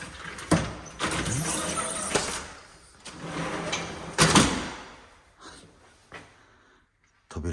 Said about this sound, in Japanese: 扉を閉めます。